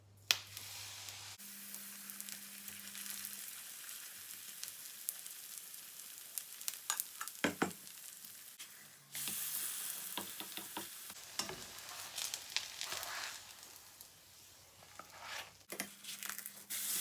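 Pancake batter with apple sizzles in a very hot frying pan with butter, a steady loud hiss with brief crackles and shifts as the batter settles, close and alone.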